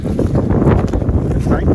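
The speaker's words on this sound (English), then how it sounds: "It's windy, it's cool." Steady wind on an exposed mountain ridge in the Cohutta Wilderness, a constant loud rushing and buffeting against the microphone that fills the whole moment without a break.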